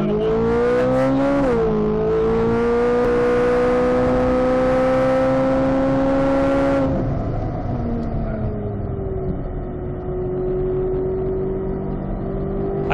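A vehicle engine revs up under throttle heading downhill, a loud rising tonal whine that climbs, holds steady for several seconds, then drops to a lower drone as the gas eases off.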